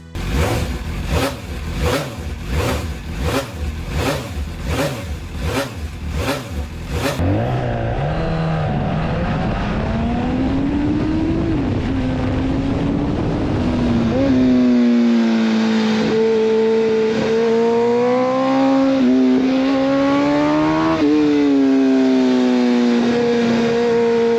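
A high-revving MV Agusta F4 sport motorcycle engine screams close by, a fast pulsing buzz at first, then a sustained wail rising and falling in pitch as the throttle changes.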